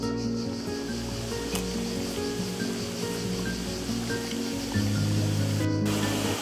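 Water rushes steadily through streams and small cascades in the Eure valley near Uzès, a continuous broadband wash that stays close and fairly loud throughout.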